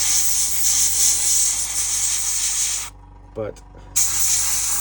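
A paint spray nozzle hisses in a sustained blast, then cuts off and gives a brief short burst before hissing resumes; a voice speaks briefly between sprays while miniatures for a Kill Team game are painted.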